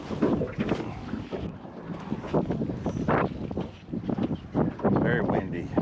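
Strong wind gusts over a small jon boat on a saltwater creek at Sunset Beach, North Carolina, roaring and buffeting close to the microphone in uneven surges.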